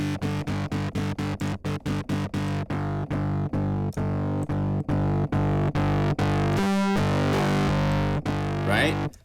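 A single-sample Strat guitar from the Mega Magic instrument is played through a distortion plug-in, giving a rapid series of gritty, buzzing chord stabs followed by a sustained distorted chord and a swept, filtered tail.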